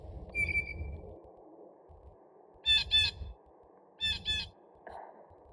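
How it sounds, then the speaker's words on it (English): Blue jay squawking calls, a harsh buzzy call followed by two pairs of rapid raspy squawks, fairly close and loud against low rumbling background noise, with no talk. "Oh my gosh, is that another blue jay call?"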